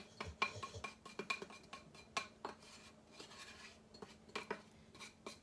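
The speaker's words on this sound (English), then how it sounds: "If you can still see clumps, keep mixing." A spoon stirring a Woodford's Admiral's Reserve beer kit mixture in a vessel to break up clumps, irregular metallic clinks and scrapes against the sides, close and fairly quiet, no speech.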